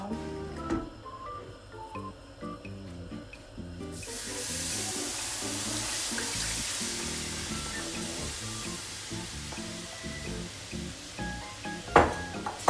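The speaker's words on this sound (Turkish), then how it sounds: "Şimdi şekerli suyumu döküyorum." Sugar syrup poured into halva in a pan on the stove, a steady watery pouring hiss that swells after a brief clatter and runs continuously, with a few utensil clinks near the end.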